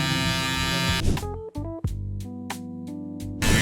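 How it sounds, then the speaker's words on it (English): An electric hair trimmer buzzes during a taper fade haircut, its steady, close hum dipping and changing pitch as the blade moves through the hair, with brief pauses in the middle before it resumes at full strength. "I'm gonna go a little bit harder now with my trimmer."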